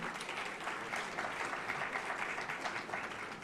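A crowd of students applauds at a university welcome event at Sister Nivedita University, a dense, even wash of clapping held at a moderate, somewhat distant level throughout.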